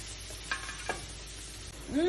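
Garlic and butter sizzle in a pan for Alfredo pasta, a soft, close frying hiss broken by a couple of brief spoon scrapes, with a sharper scrape near the end.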